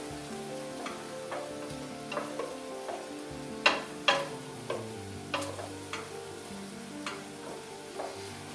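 A roux being gradually stirred into vegetables in a pot for New England clam chowder, a soft sizzle running underneath while a utensil scrapes and taps the pot at irregular intervals, fairly quiet and close, with no voices.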